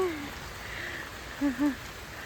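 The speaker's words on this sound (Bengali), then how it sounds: "বৃষ্টি হয়েই যাচ্ছে সকাল থেকে" A steady, soft hiss of rain falls throughout, with a couple of brief tonal chirps near the end.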